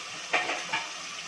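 Dried churi shutki sizzles in a pan under a soft bed of frying hiss, with two quick scraping stirs from a spoon against the metal, close and brief, no voices.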